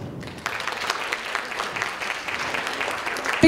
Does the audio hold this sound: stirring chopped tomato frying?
no